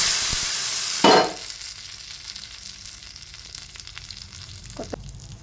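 Tempering for an Udupi-style brinjal sambar hisses in hot oil: a loud sizzling burst at first, then a quieter, steady crackle with faint stirring sounds underneath.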